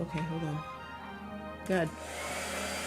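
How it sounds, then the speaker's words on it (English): A hair dryer runs with a steady broadband whoosh, briefly quieter then rising again, while people talk over it nearby. "Blow dryer."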